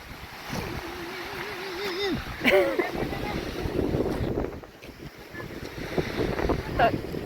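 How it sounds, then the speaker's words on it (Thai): Strong wind buffets the microphone at a lakeside beach with rocks and trees, a rough rushing roar that swells and eases while someone talks over it. "ลมแรง"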